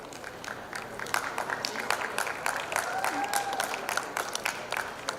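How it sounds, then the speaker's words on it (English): A school audience claps for a student award recipient at an annual prize day, a steady dense patter of many hands holding at moderate loudness throughout, with a faint voice or tone briefly heard in the middle. "They truly deserve a thunderous round of applause."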